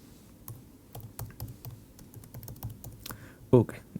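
Light, uneven keystrokes on a computer keyboard, tapped in quick irregular bursts at close range, with a louder key press near the end.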